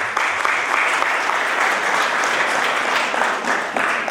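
Guests at a church wedding ceremony clap together, a loud, dense and continuous round of applause filling the room without letting up.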